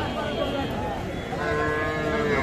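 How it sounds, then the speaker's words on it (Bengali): Small bull calves at Kaharol cattle market low faintly amid a dense, continuous crowd murmur, with people talking nearby throughout. "তো আমরা দেখালাম আপনাদের কিছু ষাঁড় বাছুর"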